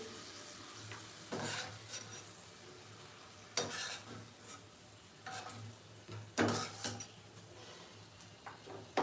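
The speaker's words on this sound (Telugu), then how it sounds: "ఇప్పుడు వచ్చేసి మనం కరివేపాకు ఫ్రై చేసుకున్నాం పచ్చిమిర్చి కరివేపాకు" Curry leaves and green chillies fry in a pan with a soft, steady sizzle, broken by several sharp scraping stirs of a spoon against the pan.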